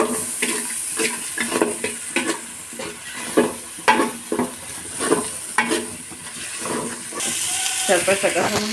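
Spice paste (masala) for chicken biryani being stir-fried, with rhythmic scraping strokes of a spatula against the pan over a steady sizzle, repeated roughly every half second, close and clear.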